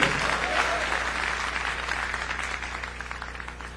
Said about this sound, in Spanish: Al Señor ese aplauso, déselo bien